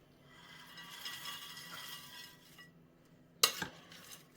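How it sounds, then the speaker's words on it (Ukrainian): A spoon mixes a salad of croutons, sausage and mayonnaise in a bowl, giving soft scraping and crunching stirs that build up, then one sharp clink of metal against the dish, all faint and close. "Зараз ми злегка його перемішаємо і запробуємо."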